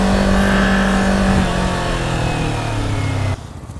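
A 2021 Kawasaki Ninja 400 motorcycle engine revs under acceleration with a steady, loud whine whose pitch shifts as it runs, heard close with no talk, then cuts off sharply to quieter background.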